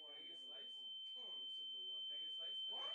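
A steady high-pitched ringing tone imitates tinnitus, holding constant throughout under continuous talking.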